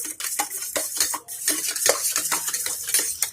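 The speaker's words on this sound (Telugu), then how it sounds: "తొక్క పడేసిన తర్వాత మిక్స్ చేసుకోండి." Beaten eggs for an omelette being whisked in a bowl: quick, irregular scraping and clinking of a utensil against the dish, steady and close with no talk.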